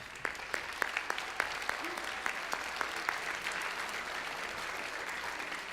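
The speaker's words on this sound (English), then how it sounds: "round of applause." Applause from an audience at a junior high school band spring concert, a light, scattered patter of claps with a few sharper individual claps, fairly distant and steady throughout.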